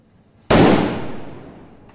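A single loud sutli firecracker bang goes off close by, a sharp blast followed by a long fading rumble and echo.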